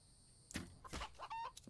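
A chicken in The Infected video game gives a few short, soft clucks in quick succession, with one higher, squawky note, heard alone against quiet background noise.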